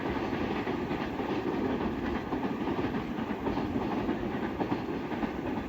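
A freight train rumbles steadily along the rails in Japan with a rhythmic clickety-clack, close and continuous throughout.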